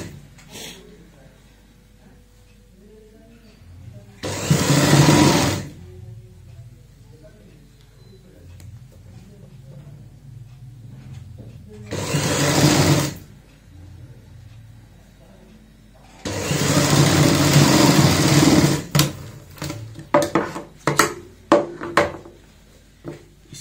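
A sewing machine stitches a frill onto a baby frock in three separate runs, each a loud burst of whirring, with the last one longest and ending in short stutters. A person talks in the quieter gaps.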